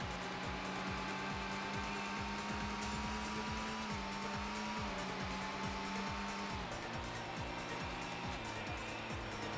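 A race car engine drones steadily in the PS1 racing game C3 Racing, its pitch climbing and dropping as the car shifts gears, with rapid rhythmic pulsing throughout, loud and continuous with no talk.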